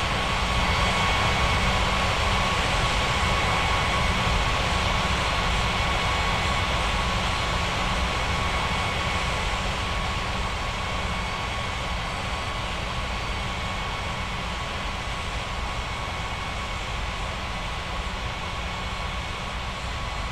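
An airliner on approach to land on runway 18 at a regional airport in the Rocky Mountains, its engines a steady, broad roar that holds loud and continuous throughout with no voices.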